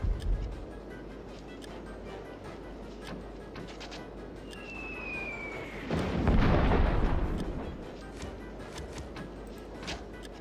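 Troops open fire in the game Warhammer Dark Omen: scattered cracks and pops of gunfire over a low battlefield rumble, then a louder booming burst around the middle that fades back into the ongoing din.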